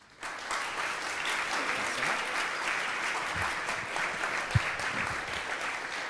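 Audience applause welcoming lecturer Jill Lepore at the Minow Lecture, a steady dense wash of many hands clapping that starts abruptly and holds at an even level throughout, with no talk over it.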